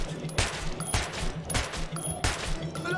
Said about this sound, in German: ich schicke mal eben da so einen Artillerieschlag rüber.